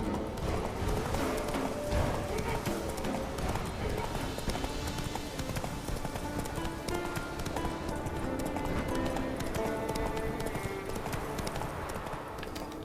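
Roach the horse gallops in The Witcher 3, a steady, rapid clip-clop of hooves running continuously over game music and ambient sound.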